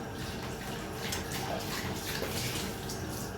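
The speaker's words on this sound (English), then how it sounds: "I'm just going to have a wee quick rinse and a lot of water" Kitchen tap water running steadily while pork is rinsed, a continuous broadband splash and hiss lasting throughout, close and fairly loud with no talking.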